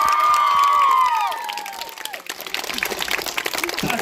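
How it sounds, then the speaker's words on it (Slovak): An audience at a Slovak school event applauds the teachers, steady clapping and a few cheers rising after a whistle-like tone fades, lively and close, continuing to the end. "Potlesk nás patrí pre vašich učiteľov a učiteľov."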